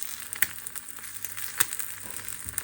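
An egg fries in a pan with a soft, steady sizzle broken by scattered sharp pops and crackles, fairly quiet and close.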